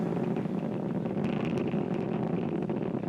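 Falcon 9 rocket engines during ascent, a dense low rumbling roar that stays steady and distant, with faint crackle above it and no voices.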